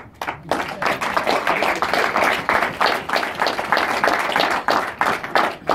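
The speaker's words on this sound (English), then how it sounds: "I think that deserves a round of applause" Wedding guests clapping together in a sustained burst of applause, close and lively, with rhythmic peaks through the crowd during a best man's speech.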